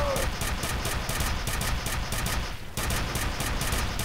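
Rapid bursts of gunfire from the first-person shooter F.E.A.R., a fast repeating string of sharp shots with a brief pause before the firing resumes, loud and close.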